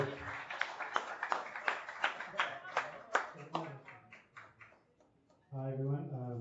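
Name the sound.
applause for a speaker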